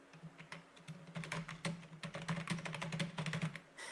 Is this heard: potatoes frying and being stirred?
no